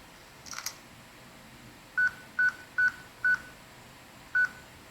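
A flip phone's keypad gives five short, clear beeps at irregular spacing in a cutscene from the video game Crisis Core: Final Fantasy VII, preceded by a brief click.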